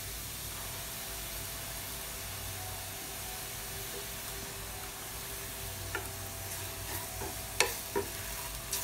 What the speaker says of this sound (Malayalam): നമുക്ക് കൊച്ചു ടർമറിക് പൗഡർ കൂടെ ആഡ് ചെയ്തിട്ട് നന്നായി ഒന്ന് ഫ്രൈ ആക്കി എടുക്കാം.